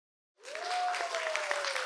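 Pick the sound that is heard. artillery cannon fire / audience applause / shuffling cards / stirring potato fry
audience applause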